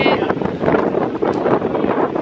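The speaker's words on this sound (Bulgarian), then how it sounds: "и супер много духа през цялото време" Strong wind buffets the microphone in a steady, loud roar with gusty rumbling throughout.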